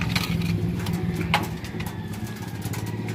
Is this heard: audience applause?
no